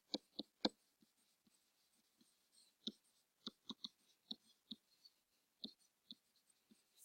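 An answer to a geometry quiz being written by hand, a faint, close scratching of pen or pencil in short irregular strokes with pauses, in a quiet room with no speech.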